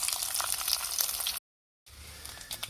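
Grated coconut sizzles and fries in hot oil in a pan for a chicken roast, a steady close crackle that cuts out briefly and resumes, with no talk.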